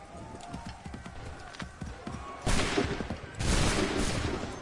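Musket volleys fire in the Assassin's Creed 3 video game, a dense crackle that swells twice into loud, sustained bursts of massed shots over a steady background of battle noise.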